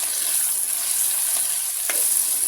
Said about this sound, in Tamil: எல்லாத்தையும் போட்டு வடிவாக கலந்து விடுவோம். நல்லா வதங்கட்டும்.